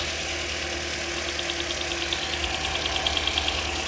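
A Toyota Corolla engine idles with a steady hum while a fast, regular metallic ticking from a loosened number 2 spark plug repeats over it, close by and fairly prominent.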